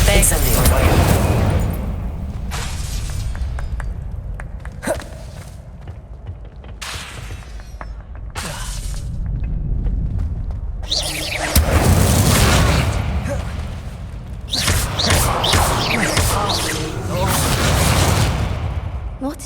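Spell duel explosions in Hogwarts Legacy: repeated loud booming blasts and bursts come in uneven clusters, with voices shouting between and over them.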